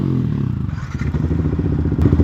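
A motorcycle engine fitted with a new exhaust idles and revs up close, its deep, throaty exhaust putting out a rapid, pulsing burble that grows louder.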